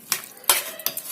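Chicken pickle being mixed by hand in a bowl: three distinct scraping, clinking bursts of stirring against the dish, close and fairly loud, with no talking.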